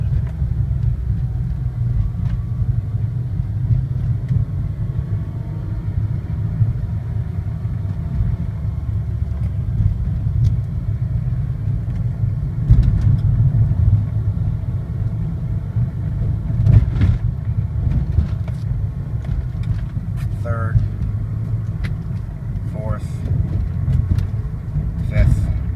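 A 1999 Ford SVT Contour with manual gearbox rumbles steadily from inside the cabin while driving, a low continuous engine drone with a few brief clicks and knocks over about twenty-five seconds.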